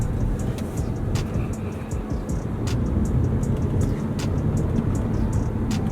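A 2019 Toyota Camry XSE in sport mode accelerates with a steady, dense engine and road roar heard from inside the cabin, constant throughout with faint ticks on top.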